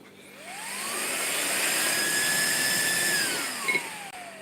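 Car cooling fan motor spinning up to high speed, a close airy whoosh with a tone that rises smoothly, holds high, then starts to wind down, with a small click near the end.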